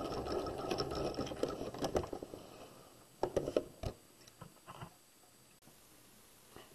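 A sewing machine running in short bursts while back stitching at the end of a pajama pants crotch seam, quick stitching runs starting and stopping, close by and alone.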